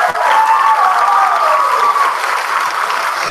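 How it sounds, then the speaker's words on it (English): Applause from an audience at a fourth grade school music program, honoring the music teacher; steady, dense clapping fills the whole stretch at close range with a faint murmur of voices and a sustained tone running underneath. "There is someone here we need to give an even bigger round of applause to"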